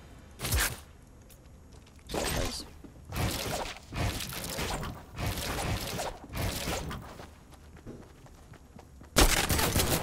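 Fortnite Battle Royale SMG fire in repeated rapid bursts of about a second each, loud and close, separated by short quiet gaps, with a final burst at the end.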